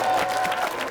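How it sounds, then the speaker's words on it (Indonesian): A television studio audience applauding, a dense, loud wash of clapping filling the whole brief moment. "ya boleh tepuk tangan dulu yuk"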